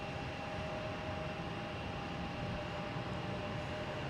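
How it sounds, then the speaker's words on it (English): Airliners taxiing at night at Boston Logan Airport, a Lufthansa A380 among them, make a steady distant engine rumble with a faint sustained whine, heard continuously and without voices. "we got Lufthansa A380 lining up for takeoff."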